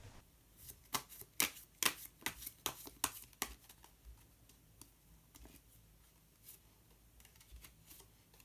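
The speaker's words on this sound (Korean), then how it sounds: "한 장의 카드를 더 뽑고 이야기 계속 나오도록 하겠습니다" Tarot cards being shuffled and drawn, a quick run of crisp riffling flicks followed by sparser single card snaps, close and fairly quiet with no talking.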